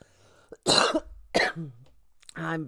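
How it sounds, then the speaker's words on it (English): A couple of harsh coughs close to the mic, followed by a short voiced vocal sound. "I can't get rid of this cough."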